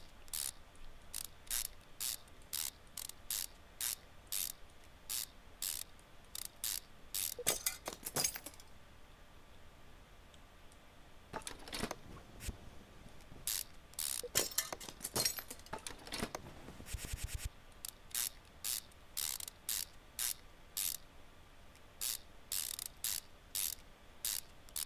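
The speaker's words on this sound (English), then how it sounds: "The power ratchet." A power ratchet in a car mechanic game bolts and unbolts parts in a steady stream of sharp, rapid mechanical clicks, with brief louder whirring bursts in between.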